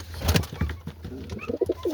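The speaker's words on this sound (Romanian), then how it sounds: "Aici am porumbei, să vă mai arăt și vouă puțin." Pigeons coo nearby in soft, throaty bursts, a few low rolling calls in quick succession with brief gaps between them.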